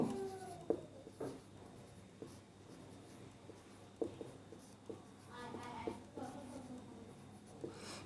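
A teacher writes out a maths problem, giving soft scratchy strokes and taps close by with faint room noise and some background voices.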